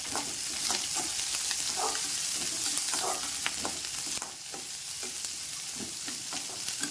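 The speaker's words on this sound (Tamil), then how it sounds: "வெங்காயம், பச்சை மிளகா, கருவேப்பிலை எல்லாம் மட்டும் நல்லா வதக்குங்க" Onion, green chilli and curry leaves sautéing in a pan, a loud continuous sizzle with frequent scraping and stirring strokes of a spatula, close and without voices.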